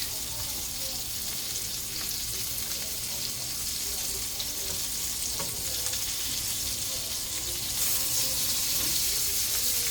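Breakfast sausages frying in a pan on a stove, a dense steady sizzle and crackle close by, with a faint watery running sound mixed in and slightly louder spattering near the end.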